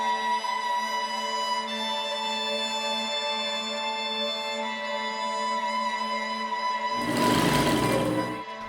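A sewing machine stitches fabric with a steady, high-pitched whirring drone, close and continuous, then a louder burst of rapid clattering near the end.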